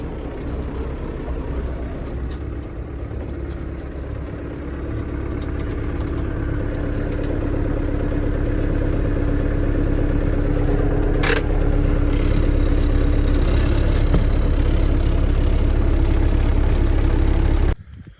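An MTZ tractor engine runs steadily, a low continuous rumble that grows slightly louder before cutting off abruptly near the end.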